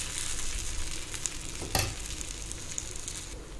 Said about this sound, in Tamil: ஒரு தோசைக்கல்ல காய போட்டிருக்கேன், இதில் ஊற்றணும்.